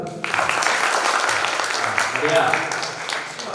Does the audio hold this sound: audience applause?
yes